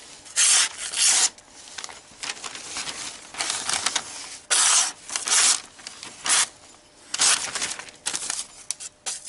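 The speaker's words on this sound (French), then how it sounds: "On va essayer ça dans la petite feuille pour voir qu'est-ce que ça coupe." A forged knife, its blade not yet finished, slicing through thin advertising paper sheets, heard as repeated sharp scratchy rasping strokes in bursts separated by short pauses, close and loud with no speech.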